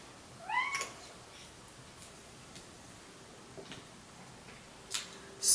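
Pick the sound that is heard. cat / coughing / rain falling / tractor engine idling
cat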